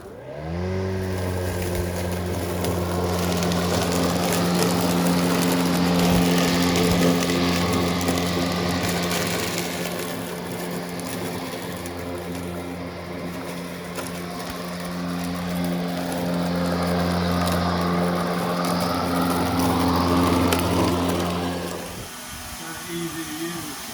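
A battery-operated self-propelled lawn mower runs with a steady electric hum and whine for about twenty seconds, swelling and easing slightly, while people talk over it, then cuts off near the end.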